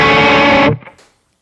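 An electric guitar played through a Sledge FX The Veil overdrive pedal rings out as a sustained distorted chord, then cuts off sharply with a short decaying tail and a few faint string noises.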